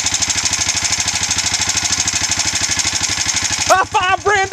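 A rebuilt Honda Foreman 400 ATV engine idles close by with a fast, even thumping pulse, loud and steady, before a voice breaks in near the end.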